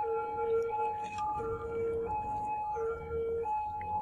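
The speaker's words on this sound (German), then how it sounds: "Krankenwagen voraus." A two-tone ambulance siren wails in the city-building game Cities: Skylines, alternating steadily between high and low pitches at moderate distance over a low traffic rumble.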